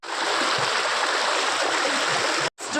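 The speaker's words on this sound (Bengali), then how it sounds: "চারি সাইডে জল পড়তেছে" Water pouring and rushing all around in the Darjeeling hills, a dense, steady roar of falling and flowing water that fills the whole clip before a brief cut near the end.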